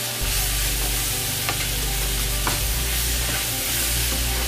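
Cabbage sizzles and fries steadily in a hot pan for a stewed cabbage dish, a continuous loud crackle with a few brief stirring scrapes, no voices.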